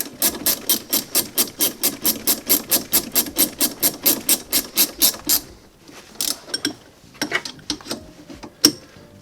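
A ratchet wrench with a 14 mm socket tightens the rear brake bolts on a motorcycle, a loud, fast run of about twenty even clicks, then a pause and a few slower, scattered clicks and knocks as the bolts snug up.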